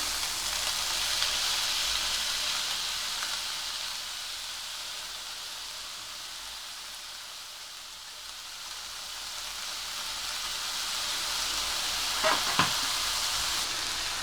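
Ground masala paste for a cauliflower, pea and carrot curry hits hot oil with vegetables in a pan, giving a loud, steady sizzle and frying hiss that runs throughout, with a brief clatter near the end.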